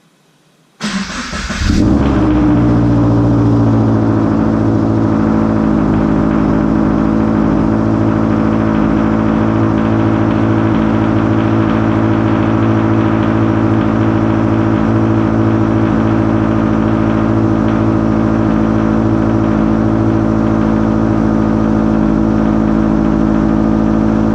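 After a quiet moment a Toyota GT86 engine cranks and catches, then settles into a steady, close idle that holds for the rest of the stretch.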